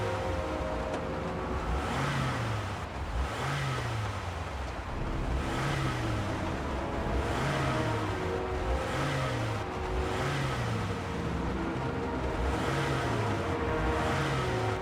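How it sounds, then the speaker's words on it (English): Car engine in the Heavy Rain video game revving repeatedly outside a mansion, a steady run of rising and falling engine pulses roughly every second and a half over a constant low rumble, with no talking. "What if I just sit here and rev the engine?"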